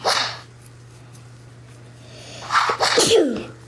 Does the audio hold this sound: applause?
no